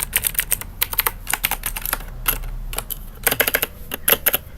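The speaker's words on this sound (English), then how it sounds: "Sounds like mouse clicks" Typing on a new Razer computer keyboard, a quick irregular run of sharp, close key clacks with brief pauses between bursts, heard alone.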